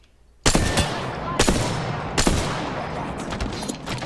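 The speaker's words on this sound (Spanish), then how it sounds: "Le están disparando por atrás a nuestros compañeros." Gunfire erupts during an Apex Legends ranked match: three heavy bursts of rapid automatic fire, loud and close, with a steady roar of shots and a few fainter cracks in between.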